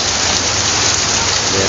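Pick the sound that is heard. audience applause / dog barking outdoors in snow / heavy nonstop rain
heavy nonstop rain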